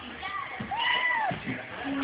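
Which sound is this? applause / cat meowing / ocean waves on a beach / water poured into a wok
cat meowing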